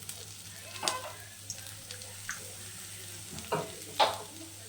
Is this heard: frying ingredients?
yes